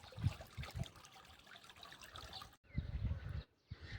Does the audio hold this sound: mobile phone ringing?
no